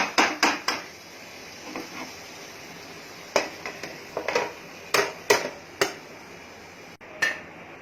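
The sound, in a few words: lid placed over pan of cooking fish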